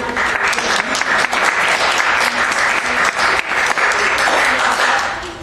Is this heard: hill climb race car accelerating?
no